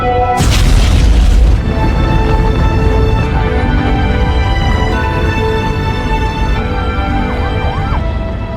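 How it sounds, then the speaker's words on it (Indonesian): In a Green Lantern film scene, a plane crashes and explodes with a sudden loud boom, followed by a long roaring rumble of fire and debris under sustained tonal score music. "pesawat itu jatuh dan meledak tepat di depan matanya"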